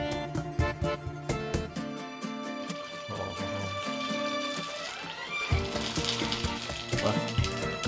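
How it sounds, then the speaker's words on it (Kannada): Sabbakki sandige, sago crisps, frying in hot oil: steady bubbling sizzle with crackling pops, fairly close, alone without speech. "ಇವಾಗ ಫ್ರೈ ಮಾಡಿ ತೋರಿಸ್ತೀವಿ ಇದು ಯಾವ ರೀತಿ ಬಂದಿದೆ ಅಂತ"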